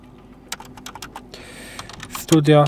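Close, quick keyboard typing, a burst of clicky keystrokes on a computer keyboard, ending as a voice starts to speak.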